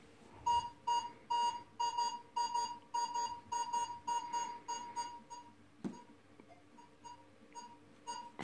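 A Minelab X-Terra 705 metal detector sounds a steady, repeating beeping target tone in an even rhythm, fairly quiet and close, with a faint clunk near the end.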